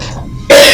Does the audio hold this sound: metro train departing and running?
no